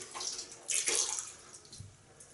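Soaked badger-hair shaving brush squeezed out by hand, water splashing and trickling in a short wet burst that swells mid-way then tapers to light drips, close and fairly quiet.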